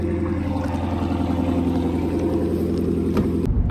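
Inside a moving car, a steady, loud low engine rumble and road noise drone continuously, then cut off abruptly just before the end.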